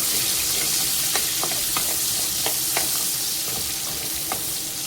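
Finely chopped onion sautéing in hot oil, a dense continuous sizzle with regular spatula strokes scraping the pan about every half second, close and even.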